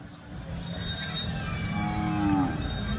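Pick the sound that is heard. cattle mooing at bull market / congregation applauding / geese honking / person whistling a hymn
cattle mooing at bull market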